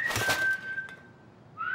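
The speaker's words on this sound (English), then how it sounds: "Odd whistling sounds." A cartoon character makes an odd, failed whistling attempt: a breathy puff followed by a thin, wavering tone held for about a second, ending in a brief rising squeak.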